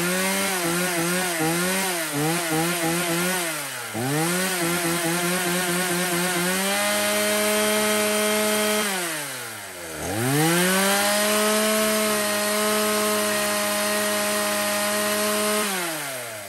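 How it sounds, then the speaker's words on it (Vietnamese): A two-stroke chainsaw from a lot of used Japanese saws (Stihl, Husqvarna, Echo, Makita, Ryobi) runs loud and close, revving up and down repeatedly with long steady high-speed stretches and dips to idle, no voices. "Một chiếc máy cưa"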